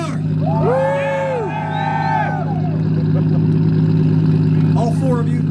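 At a two-step rev battle competition, a drift car engine revs loudly with rising and falling wails over a steady droning idle, while a crowd cheers nearby.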